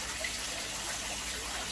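Water from an aquarium waterfall trickles steadily into a fighting-fish breeding tank, a soft continuous splash and gurgle at close range with no voices.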